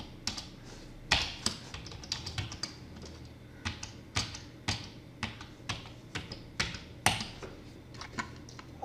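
Typing an ID card number on a computer keyboard: quick, close clicking keystrokes in uneven bursts, with a few sharper key strikes standing out, no talking.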